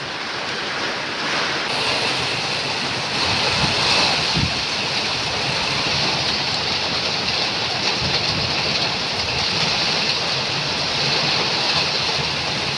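Steady, loud rush of water falling and dripping through holes in a leaking house, a continuous broadband wash like heavy rain that carries on without pause.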